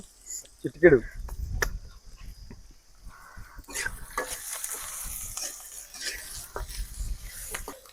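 Tempering of salt and turmeric frying in a pan for Anantapur-style puffed-rice uggani, with a short sharp sizzle and stirring clatter early, then a steady low crackling hiss under background sounds.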